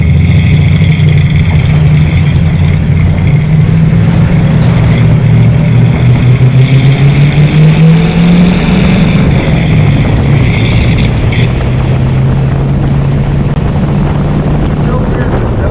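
A 1965 Ford Mustang with a 289 V8, stripped of its interior and windows, drives with a loud, steady engine drone and road rumble that rises and falls in pitch as it pulls, with wind noise throughout.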